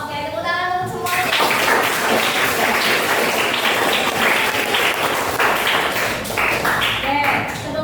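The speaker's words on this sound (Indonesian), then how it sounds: "tepuk tangan untuk semuanya." A primary school class of sixth-graders bursts into loud, continuous clapping after a brief spoken voice, the brisk applause of many small hands filling the room for several seconds before tapering slightly.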